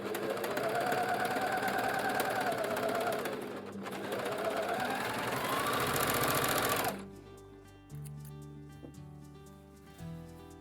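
A sewing machine stitches a T-shirt in a fast, steady whirring run for about seven seconds, close and loud, then stops and gives way to quieter, irregular clicks and handling.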